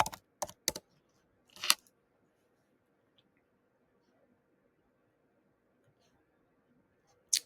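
Keys clatter on a computer keyboard in a few quick clusters of sharp taps at the start, then a brief burst, long near-silence and a final tap at the end, with no talk.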